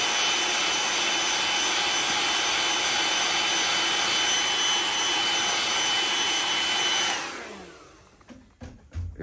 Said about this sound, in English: So what I'll do is I'll take my hair dryer and just kind of heat set that.